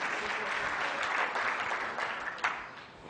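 An audience applauds steadily for a few seconds, a dense wash of clapping that swells and then tapers off slightly at the end.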